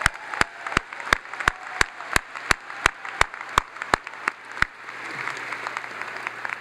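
Convocation audience at a freshman orientation gives a short burst of clapping: about a dozen loud, evenly spaced claps, likely a single nearby person's hands, followed by a softer wash of scattered crowd applause.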